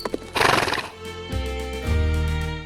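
Horses at an 1848 ring tournament in Shannondale Springs, Virginia, whinny loudly near the start, followed by a long, steady neigh with clip-clopping hooves underneath.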